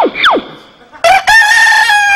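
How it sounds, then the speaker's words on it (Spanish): A rooster crows close and loud, a short cluck-like call followed by a strong, drawn-out cock-a-doodle-doo with a harsh, ringing tone, alone with no talk. "El gallo, gallo. Ahí el gallo,"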